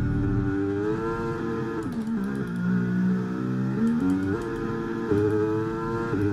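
Formula 1 car in the F1 23 video game slowing hard into a corner: a steady engine drone with harmonic pitch dropping in steps as it downshifts, then rising again, loud and continuous.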